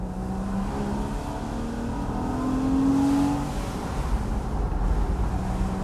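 Porsche Boxster flat-six engine with sport mode engaged, revving to about 5,000 RPM in third gear, makes a loud, steady drone whose tone climbs mid-clip and then settles, with no one talking.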